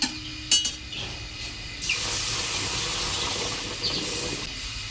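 A couple of clinks, then a loud hiss and sizzle as water hits a hot pan of frying lentils, the steamy sizzling continuing steadily.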